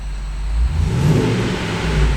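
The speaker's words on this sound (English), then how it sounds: "The car is running right now." The 6.1 liter V8 Hemi of a 2008 Jeep Grand Cherokee SRT8 runs with a steady, deep rumble, close and loud, briefly swelling as if revved, with no talk.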